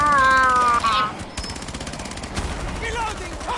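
A light machine gun fires in a video game, opening with a fast, dense burst of rapid shots that trails off into scattered, irregular pops, with a voice talking over the gunfire.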